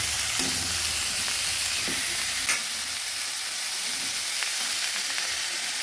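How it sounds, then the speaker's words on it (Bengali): Pumpkin and drumstick vegetables with a tomato and three green chillies are stirred in a hot pan, a continuous loud sizzle with a few scraping spoon strokes against the metal, and no voices. "নেড়ে দেবো।"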